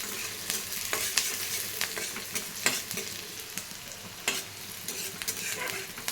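Onions and shrimp fry in a pan, a steady low sizzle broken by frequent sharp crackles and spatula stirring clicks, close and moderately quiet, with no talking.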